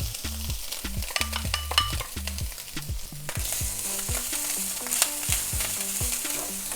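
Onions frying in butter in a pan, a steady sizzle with repeated scraping stir strokes close by, growing busier and brighter partway through.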